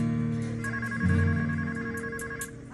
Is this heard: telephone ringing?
yes